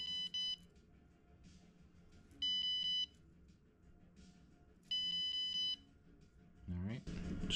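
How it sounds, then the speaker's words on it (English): A Raspberry Pi Pico buzzer triggered by a tilt sensor gives three loud, sustained electronic beeps spaced a couple of seconds apart, each about half a second long, with a short chirp at the start and a burst of noise at the end. "simply increases the buzzer duty or volume when a tilt is detected"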